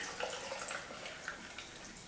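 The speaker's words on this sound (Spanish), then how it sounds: "Vamos a agregarle también agua" Water is poured into a blender jar holding tomatoes, onion and garlic, a soft, steady splashing trickle heard close and quietly in a kitchen, with no voices.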